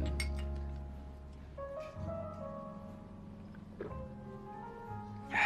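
Drinking glasses clink together in a toast at a business dinner: a few light, bright clinks near the start and a sharper one at the very end, heard over a low, steady room hum.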